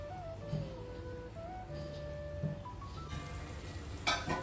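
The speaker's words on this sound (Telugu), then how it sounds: "చూడండి, వేగుతూ వాటంతట అవే పైకి తేలుతున్నాయి." Sweet tomato pieces fry gently in hot oil over a low flame, giving a steady soft sizzle with faint bubbling, continuous and close, with a brief brighter spatter near the end.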